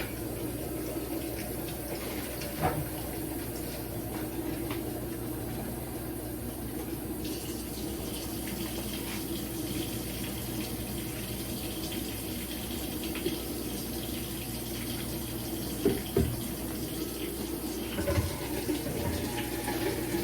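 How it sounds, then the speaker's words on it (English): Steady water runs from a kitchen tap into a stock pot for a long stretch, a constant hissing splash with a few faint clinks. "I'm just going to fill that up to the top with water."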